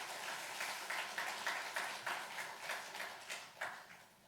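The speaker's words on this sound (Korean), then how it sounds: "귀한 말씀 들으신 목사님께 감사의 박수 드리겠습니다" A church congregation at a Sunday afternoon service clapping for the pastor, with rhythmic, fairly unified applause heard from across the room, moderately quiet and fading toward the end.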